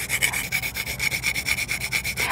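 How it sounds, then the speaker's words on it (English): Whole nutmeg is scraped against a grater in rapid back-and-forth strokes, a close, dry rasping rhythm of about a dozen pulses with no voices. "And my nutmeg. Nutmeg was also came from far. Grate this."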